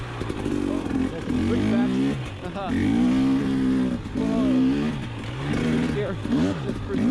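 An enduro motorcycle rides a trail in second gear, its engine revving up and down in repeated surges, close and loud, with someone speaking briefly over it.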